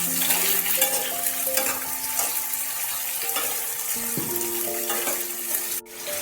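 Cut potatoes tossed with browned onions frying in a pan produce a loud, continuous sizzle with repeated stirring scrapes and clinks, ending in a short sharp knock; no one speaks.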